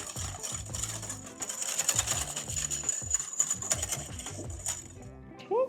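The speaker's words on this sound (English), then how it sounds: "I'm just gonna whisk this up really good." Pumpkin cake doughnut batter whisked briskly in a bowl, quick rhythmic tapping and clinking of the whisk against the bowl repeating steadily at close range, fairly quiet.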